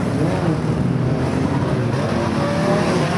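Race cars at Arena Essex during a Firecracker heat, engines droning loudly and continuously with a dense roar of several cars together, steady in level throughout.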